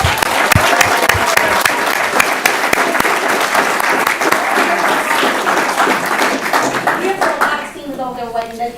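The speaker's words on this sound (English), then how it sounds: "let's give them a nice round of applause" Students at a school district superintendent's citation ceremony receive a full round of applause from the audience, dense steady clapping that fills the room for several seconds before tapering off near the end.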